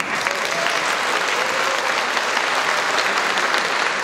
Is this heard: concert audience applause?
yes